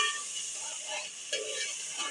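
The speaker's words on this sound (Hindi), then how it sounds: "बराबर चम्मच चलाती रहें।" Beef qorma fried in a pot and stirred steadily with a spoon, a faint, even sizzle with soft scraping and a small clink near the middle.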